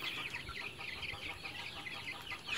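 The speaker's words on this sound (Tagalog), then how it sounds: "Siwan po itong mga sisiw na to dito sa MG Integrated Farm." Young chicks on a farm peeping continuously in a high, busy chorus, close and fairly loud, with no talk.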